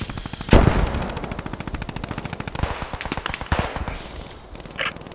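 Sustained machine gun fire in the PostScriptum war video game, with loud rapid bursts of shots, a heavy blast near the start and steady rattling that continues throughout.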